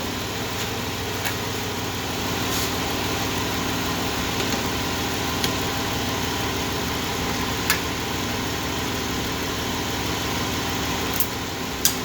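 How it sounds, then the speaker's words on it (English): A 2008 car engine idles steadily at low volume, a soft even hum with faint ticks and a few small clicks, the revs settling lower, no voices. "The engine rev is going down is a good sign."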